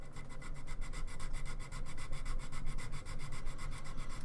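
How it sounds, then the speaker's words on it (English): A metal file rasps back and forth in quick, steady, even strokes, close up and continuous, shaping a part on a scale model of a classic Routemaster bus. "I'm actually filing it, I think will be the best option."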